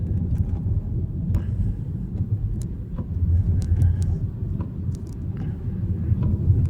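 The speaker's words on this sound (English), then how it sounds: "I'm not driving too fast because I'm not from here, and I don't want to be driving this fast." A car drives along a dark road with a steady low engine and tire rumble heard from inside the cabin, continuous and moderately loud, with faint clicks and no clear talking.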